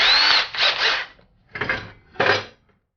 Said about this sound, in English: pre-drilling the hole for my wood screw